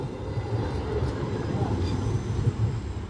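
A KRL commuter train rumbles past near Jatinegara, a steady low rolling rumble with faint rail clatter, moderately loud and continuous throughout.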